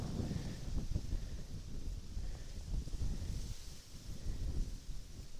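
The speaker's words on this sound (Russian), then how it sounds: "Ох, какой ветер." Strong autumn wind blows across a riverbank where ice is forming, a steady, loud roar of gusts buffeting the microphone with no voices.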